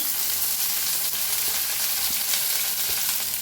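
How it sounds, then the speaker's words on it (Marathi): Onion and tomato roasting in a pan give off a continuous, fairly loud sizzle, a dense hiss with faint scattered crackles, steady throughout and alone. "आता कांदा भाजून घेऊया तंबाटू पण आहे संगत भाजून घेऊया"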